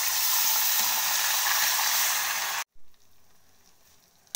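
A loud, dense sizzle of boiled grated carrots frying in hot ghee hisses steadily for a few seconds, then cuts off abruptly to near quiet.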